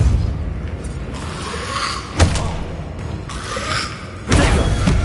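A Depulso force spell is cast in a Hogwarts wizarding video game, with two sharp, punchy thumps standing out clearly over a steady, rumbling game background.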